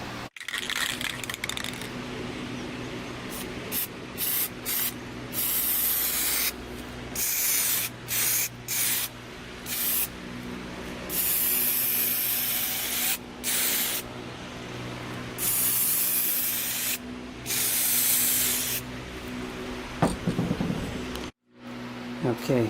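Aerosol can of SEM Trim Black spraying C pillar trim on an AW11 MR2 in repeated hissing bursts of varying length, separated by short pauses, close and fairly loud.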